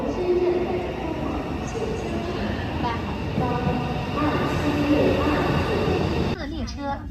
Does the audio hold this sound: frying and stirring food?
no